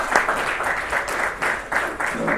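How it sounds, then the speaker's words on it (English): Clapping from the audience at the closing ceremony of a doctors' T20 cricket league in Dubai, a continuous round of many hands nearby with a few louder individual claps popping out of the steady wash. "I need a big round of applause for our guest of honor for the day."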